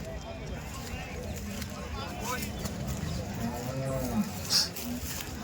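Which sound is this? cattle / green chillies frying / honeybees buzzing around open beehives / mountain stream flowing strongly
cattle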